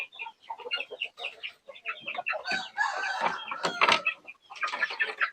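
A two-month-old stag rooster on a Philippine farm clucks and crows nearby, giving dense, repeated squawking calls that run almost continuously, with other fowl sounds mixed in.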